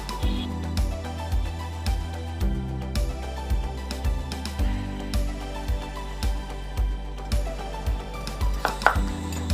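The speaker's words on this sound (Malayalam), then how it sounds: "നല്ല നൈസായിട്ട് വേണം നമ്മൾ പീസ് കട്ട് ചെയ്തെടുക്കാൻ വേണ്ടിയിട്ട്" A knife chopping half a papaya into fine pieces on a cutting board, a steady run of sharp, close taps repeating about twice a second with a faint rattle near the end.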